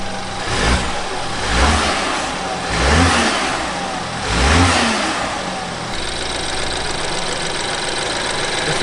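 A BMW F30 from a wrecked car being rebuilt runs and revs, the engine rising in four loud, evenly spaced revs before settling into a steady, slightly rough idle, close and alone.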